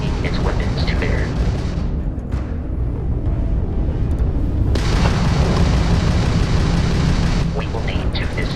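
Spaceship weapons fire during Starfield combat as a Crimson Fleet ship attacks: a loud, dense roar with booming bursts, continuous from start to end.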